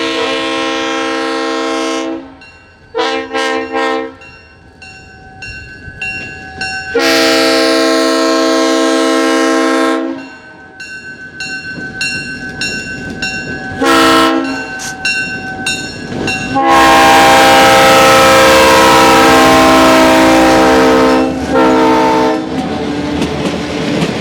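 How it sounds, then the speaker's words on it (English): Illinois Terminal 1605, an EMD GP7 diesel locomotive, draws near with a caboose train at a railway museum, sounding repeated loud horn blasts in bursts over a rumbling engine and rail clatter that builds as it passes close. "Illinois Terminal 1605, an EMD Jeep 7 is approaching now with the caboose train."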